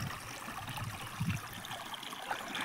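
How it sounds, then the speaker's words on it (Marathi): Borewell water flows and trickles into a napier grass field, a soft continuous gurgling stream that is fairly faint and steady throughout. "दुसरा बोर आपल्या इकडे चालू आहे, नेपेरमध्ये पाणी चाललं आहे."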